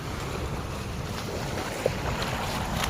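Steady rushing water roars without pause from a dam's overflow canal, broad and noisy, with wind buffeting the microphone.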